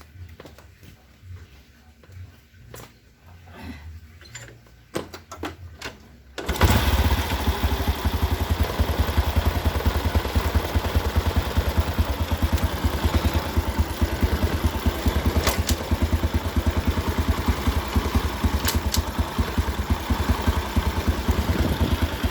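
Quiet clattering and handling noises give way to an Absolute Revo motorcycle engine, with an oil-leaking cylinder block, starting and idling steadily and loudly nearby with a faint crackling rattle running through it.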